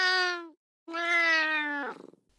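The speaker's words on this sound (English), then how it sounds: "Frank's fat cat, Plax," A fat cat meows twice in a phonics story, each a clear, tonal, close-up call, the second one longer and trailing off with a rough, breathy ending.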